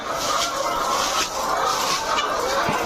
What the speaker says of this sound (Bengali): এই মুহূর্তে আমরা দেখতে পাচ্ছি হচ্ছে মুরগিকে হচ্ছে সকালের খাবার দেয়া হচ্ছে